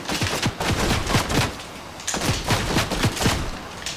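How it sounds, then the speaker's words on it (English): Gunshots ring out in a Fortnite solo match, loud, sharp reports in quick irregular bursts, with a short lull before another volley of rapid shots. "Oh, we're getting shot again."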